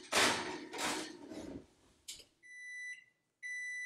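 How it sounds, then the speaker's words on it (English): An oven timer beeps in steady tones after a pie crust bakes, following a few louder clunks and knocks in a kitchen, with a short pause between the beep runs. "Here's the timer."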